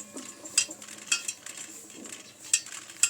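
Spoon stirring chopped coriander into a dry stuffing masala for gunda in a metal dish, giving a few sharp clinks against the rim between soft scraping, close and clear with no talk.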